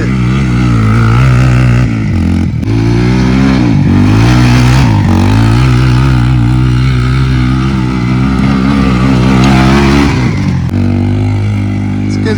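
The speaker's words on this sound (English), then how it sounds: "Oh, he's drifting with it." A drifting car's engine revving hard and holding high, loud and close throughout, with the pitch rising and falling and brief dips between pulls.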